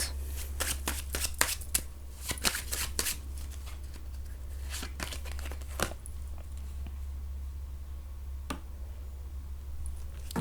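Tarot cards being shuffled by hand, a rapid series of crisp riffling snaps bunched in the first six seconds, then a few isolated flicks, close and fairly soft with no talking.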